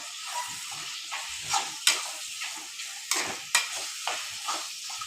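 Chicken in masala being sautéed in oil until the oil separates, a steady soft sizzle and hiss with regular scraping stirs and occasional sharper clinks of the spoon against the pan.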